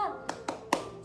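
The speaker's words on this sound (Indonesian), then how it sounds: "mari kita tepuk semangat dulu ya" Three crisp hand claps in a quick, even rhythm from children doing a 'tepuk semangat' classroom clap, with a brief voice at the start.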